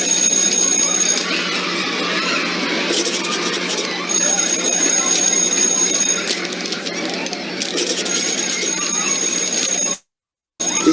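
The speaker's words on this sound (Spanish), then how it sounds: "el timbre de cambio de clase" A school bell rings for a class change, its shrill metallic clanging in repeated bursts over a busy classroom backdrop of chatter and noise, cutting out briefly near the end.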